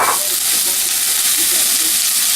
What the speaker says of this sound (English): Well, we have our onions sweating it out.